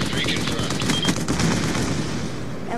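Rapid bursts of automatic gunfire in a Wii U shooter game, dense crackling volleys mixed with game sounds and a voice talking over them.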